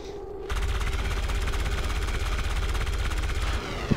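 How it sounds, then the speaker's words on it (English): Rapid automatic gunfire rattles in steady bursts in XCOM 2 as a soldier shoots out a window. It starts abruptly after a short quieter lead-in and stops just before the end. "It's nice of Anderson to shoot out that window for the stun lancer"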